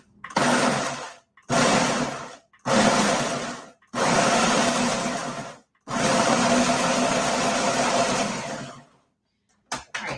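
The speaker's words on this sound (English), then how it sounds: "I have them in the blender now, and let's just pulse this." A blender pulses tomatoes in a run of loud, close bursts, four short ones and then a longer whirring spin, each broken by brief silence, with no talking.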